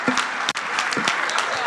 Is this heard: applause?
yes